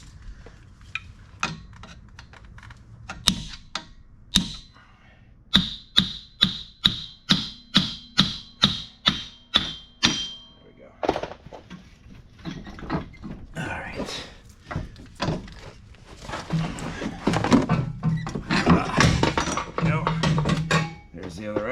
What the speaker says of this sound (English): I'll get my mini sledge.